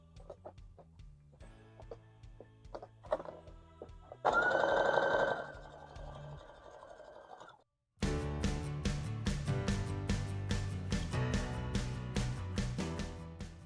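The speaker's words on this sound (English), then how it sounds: "I'm going to top stitch that seam down, making sure that seam is going towards the neckband." Sewing machine top stitching a dress neckband seam, short rhythmic stitch bursts, a brief higher whine, then a loud fast continuous run of rapid needle strokes close by.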